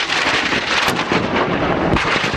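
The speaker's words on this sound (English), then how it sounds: "There's incoming fire right now." Incoming gunfire during an attack in Afghanistan, heavy booming bursts and cracks over a dense roar, loud and close throughout.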